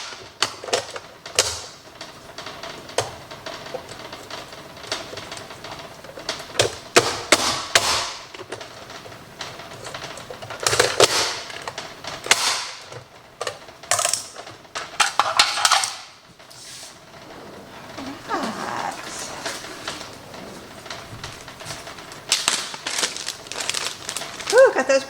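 Small red onions are peeled by hand, giving irregular dry crinkling and crackling of papery skins in quick bursts, with occasional light knocks on a hard surface, close and fairly loud.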